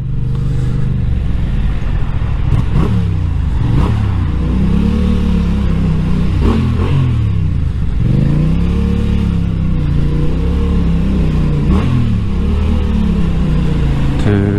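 A motorcycle weaves through road traffic, its engine a loud, close, continuous rumble with repeated rises and falls of revving, alongside the low drone of surrounding vehicles.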